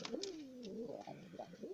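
Pigeons coo in agitation after their squabs were taken from the nest, a close, soft, warbling coo that rises and falls, repeated over a couple of seconds with no voices.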